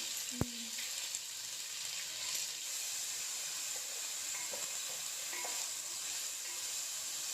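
Onion, cumin, garlic and ginger sizzling in oil for a bottle gourd masala, a steady close hiss after a sharp knock at the start, with faint clatter now and then.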